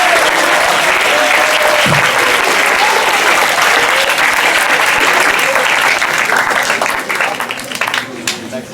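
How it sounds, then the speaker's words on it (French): Delegates at the closing ceremony of a Model UN conference clap loudly and continuously for the organizing team, a dense crowd applause that holds steady before thinning out near the end. "Je vous prie tous d'applaudir cette équipe excellente."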